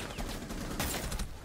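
Gunfire during a Rainbow Six Siege match, a dense, fairly faint crackle of rapid shots in clustered bursts over a constant background hiss.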